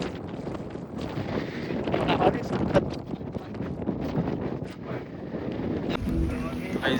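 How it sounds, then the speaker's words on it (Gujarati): Strong wind gusting across Girnar mountain roars and buffets the microphone nonstop, with faint voices mixed under the rushing air. "વાયરો બહુ"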